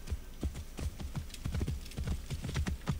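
Horse hooves clip-clopping in the video game Assassin's Creed Origins, a steady trotting rhythm of close, fairly soft hoofbeats that continues evenly throughout.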